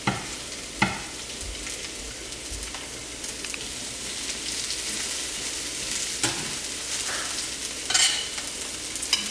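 Cabbage, onions, carrot and other vegetables stir-fry for spring rolls in a steady sizzling hiss, with occasional sharp scrapes and knocks of a utensil against the pan, close and without talk.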